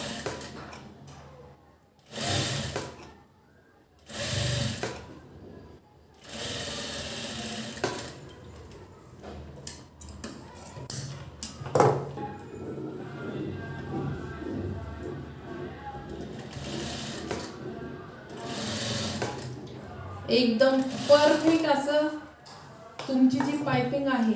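A sewing machine stitching piping onto a princess-cut blouse, its rapid mechanical whirring and ticking coming in runs under someone speaking throughout.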